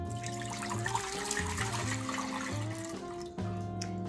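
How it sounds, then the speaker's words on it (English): Water pours from a measuring cup into a crockpot slow cooker for a low country boil, a steady splashing gurgle with shifting tonal ringing as the level rises, close and continuous. "You are going to start by putting 6 cups of water into your slow cooker."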